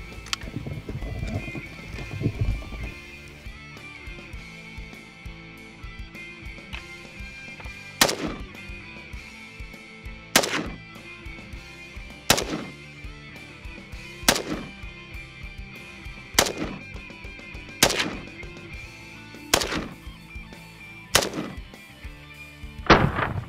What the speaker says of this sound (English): put as tight a group on the dummy as I can with the AK-47 in the standard iron sights